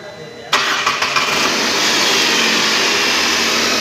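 A Datsun Redigo's starter cranks in a few quick close pulses before the engine catches and settles into a loud, steady idle.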